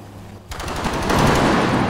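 Rapid automatic gunfire in a shooter video game, a loud dense burst that kicks in abruptly after a brief quiet moment and keeps rattling to the end.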